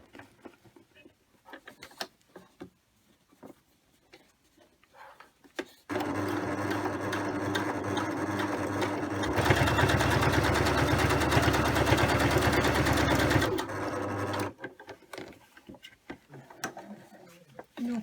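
Husqvarna Emerald 118 sewing machine with an ordinary size 80 needle stitching through eight folded layers of denim, a steady close motor whir with rapid needle clatter running several seconds, speeding up midway, between quieter handling noises.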